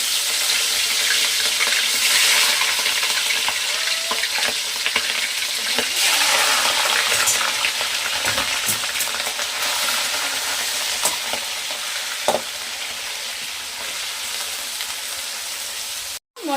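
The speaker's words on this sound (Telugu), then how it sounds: "మొత్తం చికెన్ని మనము ఎంత చేస్తున్నామో అంత నూనెలో వేయించి పక్కకు తీసుకోవాలండి" Chicken pieces frying in about two glasses of hot oil for an Andhra-style Mughlai chicken curry, a loud continuous crackling sizzle heard close up with occasional utensil clicks and a brief knock near the end, with no one speaking.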